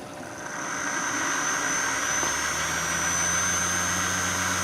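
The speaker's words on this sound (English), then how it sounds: "if I do use the diode, the motor bogs down to very nearly a stall" An electric shunt motor whines at steady speed, then audibly drops in pitch and bogs down toward a near stall as its coil is shorted through a diode, a continuous close mechanical hum throughout.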